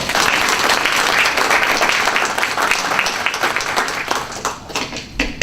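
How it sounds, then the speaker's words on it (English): A lecture-hall audience applauds for a woman in the crowd at a diversity and inclusion week talk, dense steady clapping that stays loud throughout and thins slightly toward the end. "Give her a round of applause."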